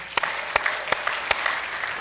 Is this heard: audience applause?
yes